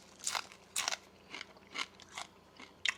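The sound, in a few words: biting into crispy fried grunt fish tail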